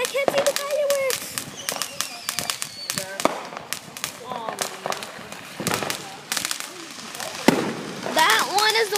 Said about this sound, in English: That one is the one who's shooting illegal fireworks.